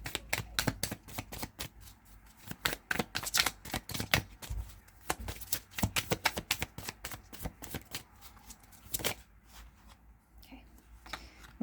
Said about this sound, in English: So I'm going to have to move these cards and we'll get some tarot.